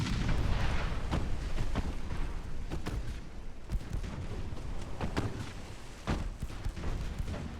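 Heavy naval guns of a 1910 German battlecruiser firing high-explosive shells in a naval strategy game, deep booming salvos and sharp reports repeating irregularly over a constant rumbling battle background.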